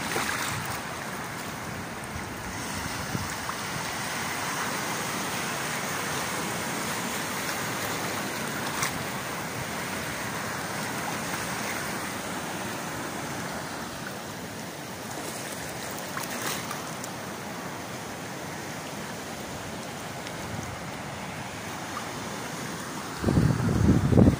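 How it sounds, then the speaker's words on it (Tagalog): Big storm waves on the ocean near a pier, a steady broad roar of surf and wind buffeting the microphone for the whole stretch, with a louder burst at the very end. "Super big wave."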